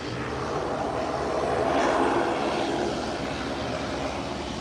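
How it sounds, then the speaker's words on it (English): An airplane lands on runway 28 in crosswind conditions, its engines making a broad, moderately distant roar that swells slightly in the middle and then eases, with no talking. "They are now landing from this side because of the crosswinds that we saw earlier."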